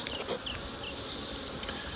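Honey bees from a swarm buzz steadily at the hive landing board in a bee yard, a continuous dense hum with a few individual bees droning close past, no talking.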